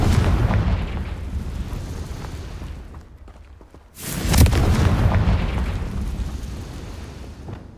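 A Confringo fire spell detonates in the Hogwarts Legacy video game, with a sudden loud, booming blast after a short lull, rumbling on under a dense, roaring battle din.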